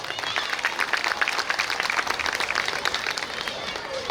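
An audience at a school annual function gives sustained, dense applause throughout, steady and moderately loud, with many hands clapping together in a crowded outdoor pandal.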